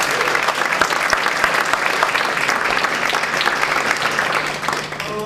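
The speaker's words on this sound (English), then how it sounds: "Round of applause, just for" Sustained audience applause fills a conference plenary session hall, a dense steady wash of many hands clapping from start to finish with no talk over it.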